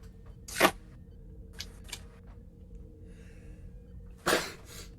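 A sharp sneeze bursts out near the start, with a second similar burst about four seconds later, both loud and close against a quiet room with faint background hum.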